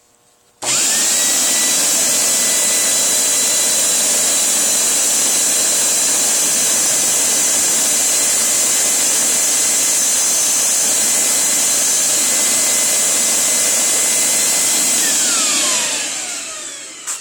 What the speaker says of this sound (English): I'm going to turn the vacuum cleaner on